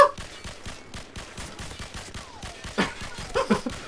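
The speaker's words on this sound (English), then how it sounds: "Shooting you through the concrete." Rapid automatic gunfire rattles in a steady rhythm in Call of Duty 4: Modern Warfare, loud and close, with a few heavier impact bursts near the end and no talking over it.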